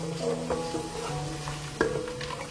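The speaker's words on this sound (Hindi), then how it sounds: "अब आपने इस दूध को पकाना है" A cup of milk heats in a pot on the stove for sweet rice while a spoon stirs it, soft scraping strokes over a low simmer, close and alone.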